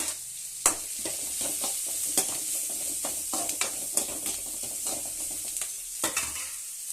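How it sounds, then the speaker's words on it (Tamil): Onions with tomato, asafoetida, coriander leaves and curry leaves sauté for idli sambar, a steady close sizzle broken by frequent scraping and clinking strokes of a spoon stirring in the pan. "பாருங்கள், நல்லா வதங்கிருச்சு."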